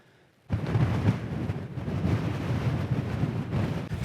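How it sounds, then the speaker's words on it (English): Strong wind roars across an exposed hillside, a sustained buffeting rush with gusty swells hitting the microphone hard, starting abruptly and continuing without letup. "It's definitely windier now."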